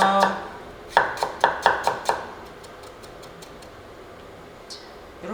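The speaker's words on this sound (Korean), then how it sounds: "생강 편 썰어 주시고요." A knife slicing fresh ginger into thin pieces on a cutting board for a squid stir-fry, a quick run of about six crisp taps, followed by fainter, lighter taps trailing off.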